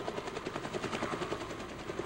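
Military helicopter gunships hovering over a rescue scene, a steady rotor chop with rhythmic pulsing throughout, moderately loud and alone.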